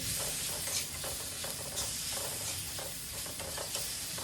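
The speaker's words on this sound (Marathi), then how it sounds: "हे सगळं तिखट हळद आहे ते सगळं तेलामध्ये ते कांद्यासोबत परतून घ्यायचं" Onions fry in oil with chilli powder and turmeric for tomato chutney, a steady close sizzle and hiss with rhythmic stirring scrapes repeating about every half second.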